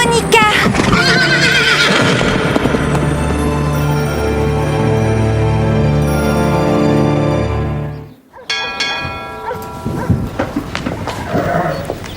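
A horse gives a long, loud, quavering neigh close by, followed by a brief silence and then a second shorter whinny with snorting and faint hoof clops.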